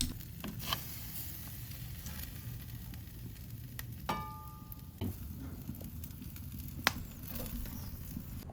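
Tri tip searing on a grill during a smoke cook, a steady low sizzle with faint crackle and a few soft pops, heard close and with no talking.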